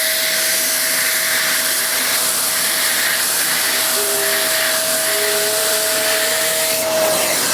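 Vax Rapide Ultra 2 carpet washer spraying shampoo from its nozzle, a steady loud motor whine with a thin sustained tone and a rushing spray hiss, close and continuous.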